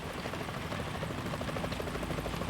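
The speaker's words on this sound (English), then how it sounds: "Is that a chopper I just heard?" A helicopter in the Metal Gear Solid 2 stealth game flies overhead, a continuous rotor thrum with a fast chopping pulse, steady and moderately loud against a low rumble.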